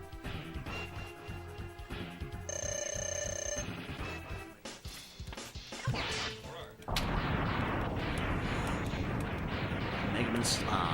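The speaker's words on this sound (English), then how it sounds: "Mega Man slides. Doesn't care about the explosion" A Mega Man X explosion during a 100% speedrun race erupts into a loud, sustained broadband blast that follows a stretch of game tones and effects.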